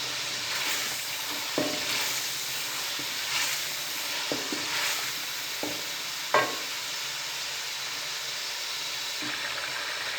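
Potatoes cooking in masala in a pan, stirred now and then, with a steady sizzle and a few sharp spoon scrapes spaced over the span.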